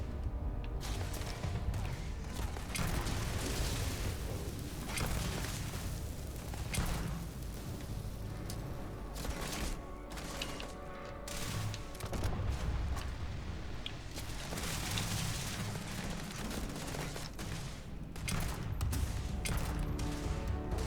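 Sniper rifle fire in Starfield, a dense run of loud, sharp reports and crashing bursts repeating through the whole stretch, close and harsh, with no talk over it.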